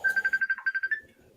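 A phone ringtone sounds briefly nearby, a quick run of bright repeated electronic beeps lasting about a second before fading.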